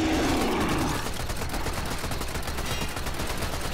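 Rapid gunfire in the Warframe shooter game, a dense continuous burst of automatic shots, loud and close, with a low rumbling layer beneath the rattle.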